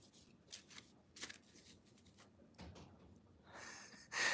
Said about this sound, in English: I'm shuffling again, guys. I shuffle like a fool.